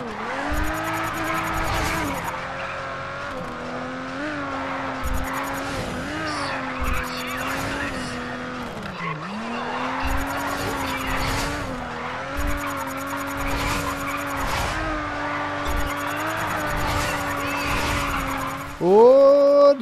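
A car drifting in the racing video game GRID, its engine droning while tyres screech in long sustained squeals, with short breaks and shifts in pitch, fairly loud and steady throughout.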